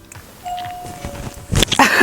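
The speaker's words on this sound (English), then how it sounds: "you may or may not have heard the doorbell going" A doorbell rings once with a sustained single tone at a distance, followed by muffled household noise and scuffling, no speech.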